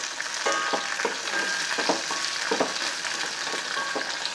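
Green chillies fry in a pan with a steady loud sizzle, and rhythmic spatula strokes scrape through it roughly every half second, close and without speech.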